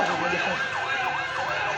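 A fire service vehicle's siren wails steadily in a rising and falling pattern as it arrives at a bakery fire in Chawkbazar, Comilla. It sounds loud and close against a background of crowd noise.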